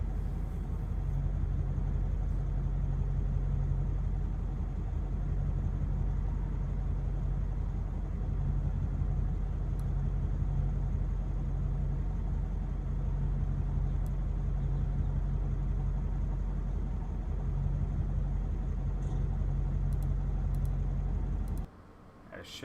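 Vehicle engine running recording with gravel noise in the background, used for a game mod: a steady mid-pitched engine drone holds for about twenty seconds, then cuts off abruptly.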